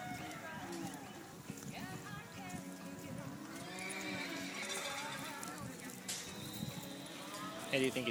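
Horses and dogs gather at a community hoof-and-walk event: a horse neighs and hooves clip-clop along as people talk throughout, with a busy outdoor background.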